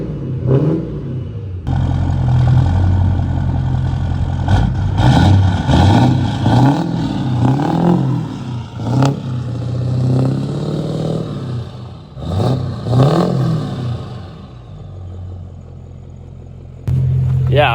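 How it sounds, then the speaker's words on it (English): Exhaust from a rebuilt 6.4L diesel pickup engine, a deep rumbling idle broken by several loud revs that rise and fall, with mechanical clatter under the throaty roar, heard close and without talk. "I'll get some exhaust clips here"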